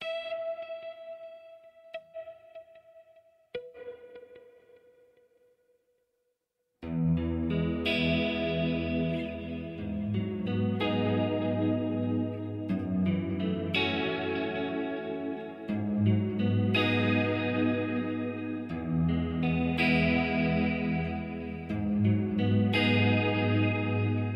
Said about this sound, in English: Here's the stereo delay, so it's gonna, one side is a dotted eighth note, the other side is an eighth note